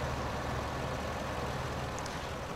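A tractor engine in Farming Simulator 2015 drones with a steady low rumble, constant and fairly close, with no change in pitch across the short stretch.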